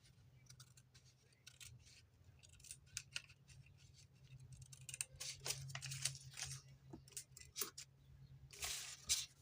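Scissors trim the edges of a one-sheet paper booklet with pockets, making a series of quick, crisp snips and slicing strokes. The cuts come at an irregular rhythm over a faint background hum, with no voices.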